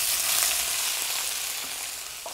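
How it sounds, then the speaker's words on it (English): Shrimp hitting a hot frying pan set off a loud, dense sizzle that holds steady and slowly fades a little over a couple of seconds, with no speech. "I'm gonna add my shrimp."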